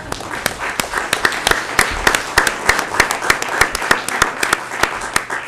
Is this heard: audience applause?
yes